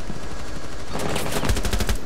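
Rapid bursts of automatic gunfire from the Rainbow Six Siege video game, a dense volley of sharp repeated shots in the second half, loud and close, following a quieter stretch of in-game ambience.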